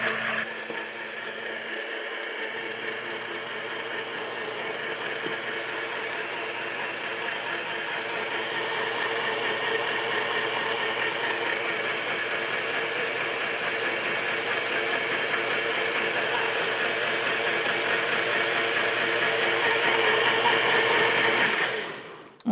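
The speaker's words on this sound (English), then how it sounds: "for little drinks like that, I just love my NutriBullet because it's so fast and easy" A NutriBullet blender whips up a batch of egg-free, dairy-free eggnog with a loud, steady whirring drone that holds for about twenty seconds before cutting off abruptly, with no talking.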